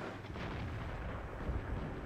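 A tank cannon fires in World of Tanks while sniping, producing a dense, loud artillery-style boom with rumbling low-end decay that stays present throughout the short stretch, with no talk over it.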